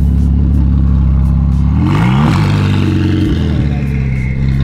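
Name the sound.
sports car engine revving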